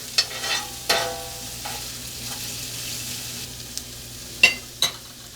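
Chopped onions are stirred and toasted in a frying pan for Mexican-style scrambled eggs: a steady soft sizzle with several sharp spatula scrapes and clacks, the loudest two coming near the end, close and without talk.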